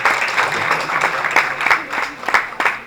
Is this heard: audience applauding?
yes